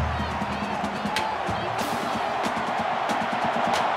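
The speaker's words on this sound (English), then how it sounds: "The crowd really making it difficult." Continuous stadium crowd roar from NCAA Football 19 during a Texas A&M vs Alabama game: a dense, steady wash of cheering and noise with brief sharp accents scattered through it.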